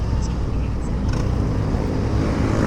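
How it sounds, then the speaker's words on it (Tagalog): Heavy road traffic near EDSA in Manila forms a steady low rumble of engines and passing vehicles, continuous and moderately loud, with a rider's voice over it. "Grabe yung traffic dito."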